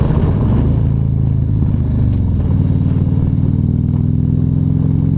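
A 2015 Harley-Davidson Street Glide motorcycle engine pulls steadily and loudly throughout, with a deep continuous rumble that shifts pitch as the bike gains speed.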